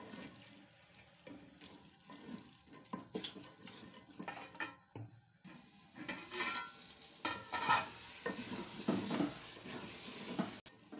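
Dal sizzling and being stirred in a pot as it fries for a few minutes, with continuous crackle, scraping and clinking of a spoon against the pan at close range, no talking.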